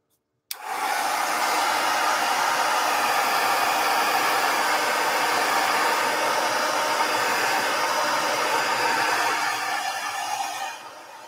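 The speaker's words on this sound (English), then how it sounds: "I'm going to put the heat gun on for a second, guys." Heat gun blowing hot air to dry paint on a recycled-art angel ornament, switching on abruptly and roaring as a steady loud broadband whoosh for about ten seconds before tapering off.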